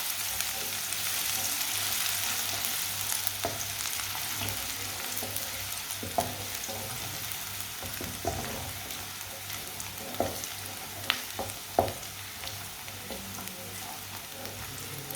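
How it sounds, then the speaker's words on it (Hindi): Chopped onions fry in a pan for an egg dish, giving a steady close-up sizzle with occasional sharp crackles and pops from stirring, with no talking over it. "प्याज को हल्का सा ब्राउन कर लेंगे"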